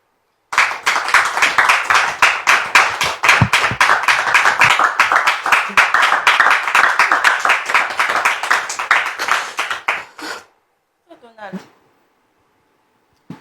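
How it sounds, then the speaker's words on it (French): A church congregation claps rhythmically in unison as a woman arrives, loud, steady and close for about ten seconds before stopping abruptly, followed by a brief voice in the quiet. "Je voudrais que nous puissions acclamer le Seigneur pendant qu'elle arrive"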